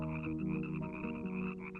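Frogs croak in a dense, continuous chorus, a steady rhythmic layer used as a sound effect in a dramatized King James Exodus audiobook, loud and up close with no voices over it.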